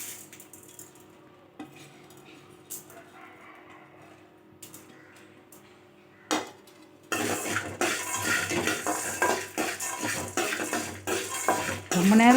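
Coriander and cumin roasting in a pan for radish chutney, quiet clinks and scraping before a sudden loud, dense sizzle and stirring rattle takes over, close by, with no talk heard.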